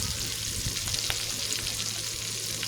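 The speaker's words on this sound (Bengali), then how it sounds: "দিয়ে একটু ভেজে নিচ্ছি ভালোভাবে, একটু গোল্ডেন কালার করে ভেজে নেব।" Cinnamon and black and green cardamom fry in hot oil in a pan with a close, continuous sizzle and occasional small stirring pops.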